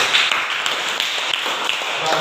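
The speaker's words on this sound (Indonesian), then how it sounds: "Tepuk tangan untuk kue." Clapping from a classroom of students, a dense steady patter of many hands held at an even level throughout, with some voices mixed in underneath.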